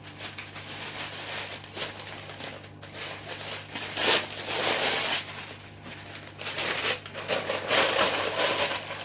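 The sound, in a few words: scrunching baking parchment paper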